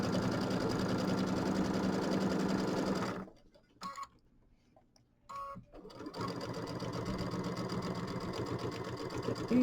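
A sewing machine runs loudly, stitching quilt pieces for a Kimberbell mini quilt with a quarter-inch seam. It whirs steadily, stops briefly in the middle with a few short bursts, then keeps running to the end.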